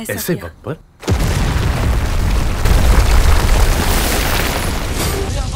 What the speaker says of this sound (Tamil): கிட்ட நெருங்கி வர்றப்ப வெடிச்சு போயிரும்